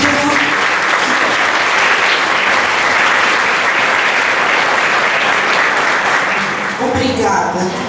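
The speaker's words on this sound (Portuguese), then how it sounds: "Então, eu quero deixar aqui uma salva de palmas para todos nós que estamos vivendo." Loud, dense applause from an audience at a centenary gathering of a spiritist society, steady for several seconds before a voice begins speaking near the end.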